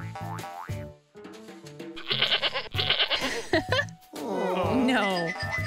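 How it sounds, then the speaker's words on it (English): A cartoon goat bleats in a children's educational color show, a few wavering, quavering cries mixed with bouncy musical effects and animated voices talking around them. "This is a goat."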